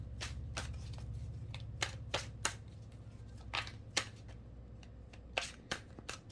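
Tarot cards laid out one by one on a table during a reading: a handful of crisp, separate slaps and flicks at uneven intervals, close up, over a low steady background hum.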